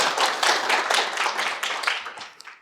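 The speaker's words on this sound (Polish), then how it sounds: "Ja poproszę o brawa dla Malcolma Forbesa" A small crowd claps together in a brief burst of applause that gradually thins out and fades.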